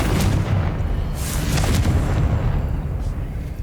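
Confringo spell blast in Hogwarts Legacy, a loud, dense rumbling explosion that fills the moment with a sustained booming roar.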